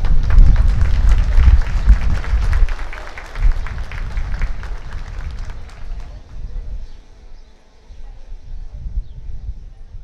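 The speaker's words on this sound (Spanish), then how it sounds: "Les brindamos un fuerte aplauso" Applause from a school dance-gala audience for a fifth- and sixth-grade mermaid-themed choreography, loud and dense at first, then thinning into scattered clapping and crowd murmur.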